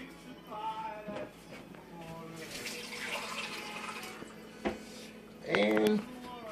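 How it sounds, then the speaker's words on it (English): Tap water runs steadily into a pot for cooking pasta fagioli, a soft continuous rush under a person talking, with a few clinks and a brief louder voice near the end. "I'm going to add 12 cups of water"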